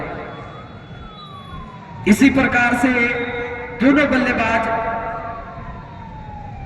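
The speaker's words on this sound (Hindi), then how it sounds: "और एम्बुलेंस को साइड दे देंगे।" An ambulance siren wails nearby on the road, loud rising and falling tones that surge twice, with a cricket commentator talking over it during a local semi-final match.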